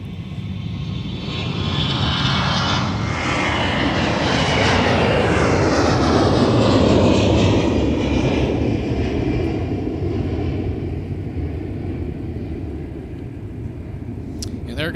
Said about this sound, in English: And there goes Delta 1305 heading out to Los Angeles, California.